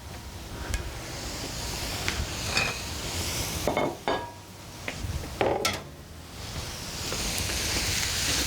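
Cauliflower leaves tossed into a sizzling pan of cauliflower no-rice fried rice, with a steady frying hiss and a few sharp clinks and scrapes of utensils against the pan, close and fairly loud, with no talking.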